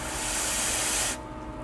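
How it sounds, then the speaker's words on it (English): A can of freeze spray blasts onto an inductor on a circuit board, a loud steady aerosol hiss lasting about a second before cutting off abruptly into quiet room noise. "I just have a can of freeze spray, and I'm just going to spray the inductor to cool it down rapidly"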